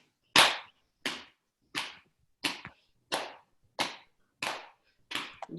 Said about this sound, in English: And then you might start clapping your thighs.